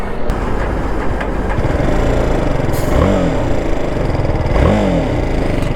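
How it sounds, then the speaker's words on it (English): BMW G310 R BS6 motorcycle exhaust on the road under way, a loud close single-cylinder drone with wind noise and two rising revs as the rider accelerates through gears. "So that's exhaust sound"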